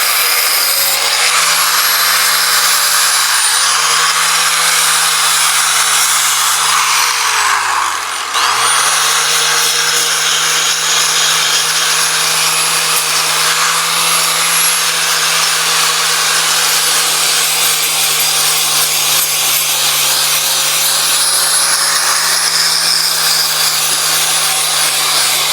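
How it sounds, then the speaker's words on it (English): A power disc sander whirs steadily and loudly against timber frame joinery, a constant abrasive hiss over a low motor hum that dips briefly once. "the disc sanding works so well on here"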